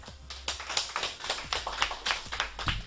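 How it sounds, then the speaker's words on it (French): A school radio quiz audience claps for a contestant in a short burst of scattered, fairly faint hand claps, sparse and uneven, with no voices over them. "On t'applaudit encore une fois Louis."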